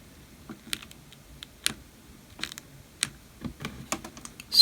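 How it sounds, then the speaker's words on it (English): Number keys pressed on the keypad of a Quansheng handheld radio, a series of crisp, close plastic clicks in an irregular rhythm, each tap distinct against near silence, with no speech. "hitting any of the numbered keys lets you input a frequency"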